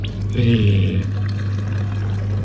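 Milk from a self-service dispenser pours steadily into a bottle, a close, continuous stream with a brief gurgling onset and no voices.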